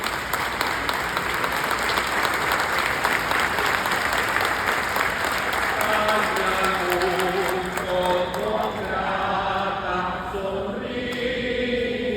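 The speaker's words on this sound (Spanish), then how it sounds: "¡Aplausos a la Virgen!" Sustained applause from a large crowd at an Immaculate Conception celebration honoring the Virgin, steady and loud throughout, with voices rising under the clapping toward the end.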